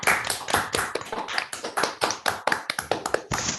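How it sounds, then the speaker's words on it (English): Participants in an online academic meeting clapping after unmuting, a series of sharp, close claps in an uneven rhythm, slightly clipped and overlapping from several microphones. "can we maybe unmute ourselves and give an applause?"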